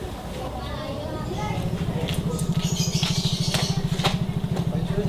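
A motorcycle engine idles nearby with a rapid, even putter that gets louder and steadier partway through. Voices and small clatters sit over it.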